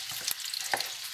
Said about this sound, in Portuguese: Eu vou despejar aqui na panela, ele já tá quentinho